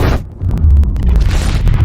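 A nuclear detonation in an action film, heard as a deep, heavy boom that swells and rumbles continuously for about two seconds, loud and low, with no speech over it.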